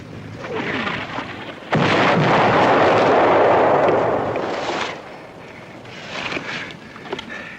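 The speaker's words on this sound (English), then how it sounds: "Now they're lobbing anti-aircraft shells straight up." Anti-aircraft shells fired and bursting in a WWII combat drama, a sudden heavy blast followed by a sustained roaring rumble, then fainter distant thuds and crackles.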